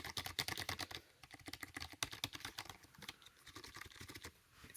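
Keys clatter on a gaming keyboard in rapid, irregular bursts of close, crisp clicks with brief pauses between runs, quiet and with no talk.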